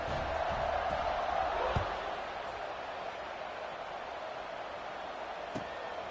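A football stadium crowd buzzing after a touchdown, a broad distant roar that swells early and then settles into a steady murmur.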